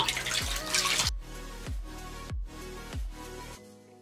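Water splashing at a bathroom sink while a face is rinsed after an oil cleanse, a run of wet splashes followed by softer repeated drips and trickles, close and fairly quiet.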